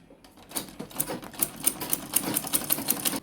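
A sewing machine stitches the second side of a zipper coin pouch, a rapid run of close, steady needle clatter with short pauses between bursts, no voices present.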